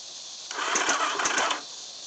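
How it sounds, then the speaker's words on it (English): A 1986 Terrapro engine with a slack timing chain rattles and clatters in a brief burst of about a second, with rapid metallic ticking over a steady running drone. "Kind of sounds like timing chain. Got a lot of slack in it."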